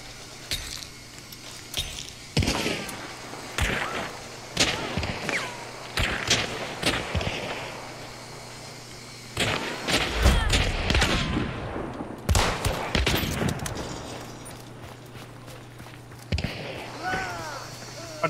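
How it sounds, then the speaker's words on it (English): Gunfire in a shooter video game, with scattered sharp shots and short bursts that ring with metallic clinks. Some sound nearby and some farther off, spread irregularly over a steady hum. "Somebody's also shooting at me from across the way"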